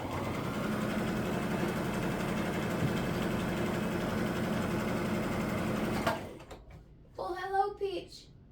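A sewing machine runs a straight stitch across quilt blocks with a fast, even motor whir for about six seconds, then stops abruptly, followed by a voice speaking.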